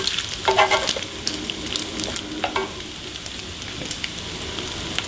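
Bacon frying in a pan for chicken carbonara, a dense, continuous crackling sizzle with a few spoon clinks and stirs early on, close and fairly loud.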